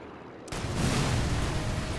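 Barrel exploding after being shot in Sniper Elite, a sudden loud blast that cuts in abruptly from near silence and rolls on as a dense, sustained roar of debris and rumble.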